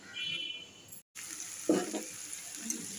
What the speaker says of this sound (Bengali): এটা কালো জিরে কাঁচা লঙ্কা দিয়ে ভাজা করব